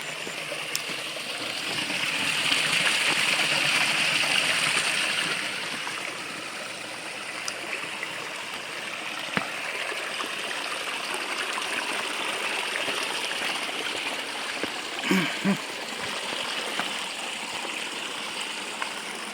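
Steady rush of the Khardu Khola stream pouring toward an intake tank, a constant close wash of flowing water with a few faint clicks and one short splashy knock late on.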